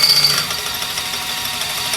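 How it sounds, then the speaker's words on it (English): A power drill boring a bolt hole through a steel base plate on a 2021 Jeep, a loud continuous grinding whine held steady for the whole stretch. "we're going to use our base plate as a template to drill out the hole to get our bolt to pass through"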